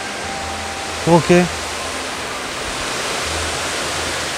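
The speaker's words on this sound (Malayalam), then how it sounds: "ഹാ, അടിപൊളി വാട്ടർഫോള്." Iruppu Waterfall in Karnataka gives a steady, full rushing roar of falling water that stays even throughout, with a short spoken word from a nearby voice early on.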